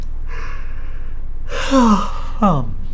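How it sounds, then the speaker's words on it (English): A person yawning twice: a long, drawn-out breathy yawn with a rising-falling vocal tone, followed by a shorter second yawn, close and fairly loud with no talk. "Another yawn, and another one, and another one."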